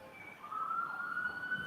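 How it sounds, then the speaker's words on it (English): A police siren plays faintly from trial footage, one long steady wail swelling in over background hum. "they're having some sirens"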